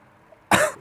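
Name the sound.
cough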